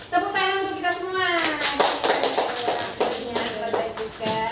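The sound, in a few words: group applause in a classroom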